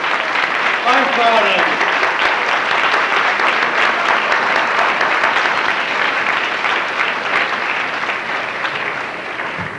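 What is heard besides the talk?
audience applause for standing committee members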